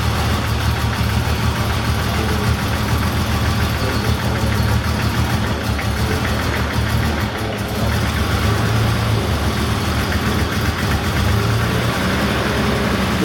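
Turbocharged 1982 BMW 323i E21 Schnitzer engine running just after starting, a loud, rough, continuous idle with a low rumble and uneven knocking texture, close to the listener and steady for the whole stretch.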